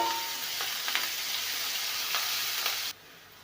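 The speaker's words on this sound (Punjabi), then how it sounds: "ਹਰੀ ਮਿਰਚ ਤੇ ਅਦਰਕ ਲਸਣ ਦਾ ਪੇਸਟ ਇਹ ਪਾ ਦੇਣਾ ਆਪਾਂ ਨੇ ਇਹਦੇ ਵਿੱਚ ਤੇ ਇਹਨੂੰ ਭੁੰਨੂਗੇ ਹਲਕਾ ਜਿਹਾ" Chopped green chilli and ginger garlic paste frying with onions for Amritsari nutri kulcha, a constant close sizzle with a couple of stirring scrapes, cutting off abruptly near the end.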